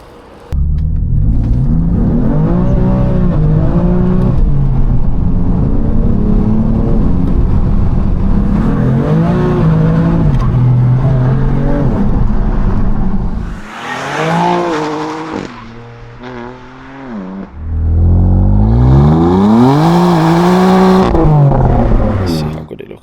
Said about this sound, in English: Drifting a little bit there, lovely.